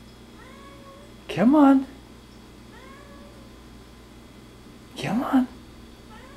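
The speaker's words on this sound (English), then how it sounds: "Just stop meowing and get out here." A house cat meows twice indoors, each cry loud and drawn out, about four seconds apart. Between and around the meows a person calls softly to coax it out.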